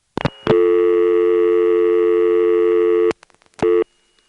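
On a GTE NX2 crossbar exchange in Hahira, Georgia, in 1978, a steady telephone exchange tone follows dialing. It holds for about two and a half seconds after brief clicks, then stops, and a short burst of the same tone returns.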